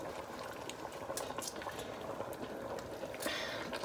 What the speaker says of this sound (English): See, you can hear the boiling sound.